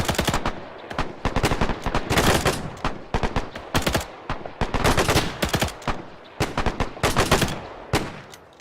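Gunfire in the video game Arma 3 during a platoon training exercise, loud dense bursts of automatic fire with overlapping shots and brief pauses between volleys, no speech heard.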